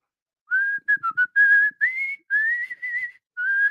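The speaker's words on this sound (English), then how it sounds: "I still to this day will randomly get the frog theme song in my head. I'll just start whistling it." Someone whistles a melodic video game frog theme in a run of short and held phrases, clear and close, with no talking.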